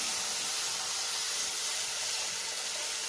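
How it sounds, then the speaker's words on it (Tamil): Thick tamarind water hits a hot pan for a neem flower kara kulambu gravy with a steady, loud hiss that holds for about three seconds, with no talking. "இந்த புளி கரைச்சல் எடுத்து இதில் விட்டுடணும்"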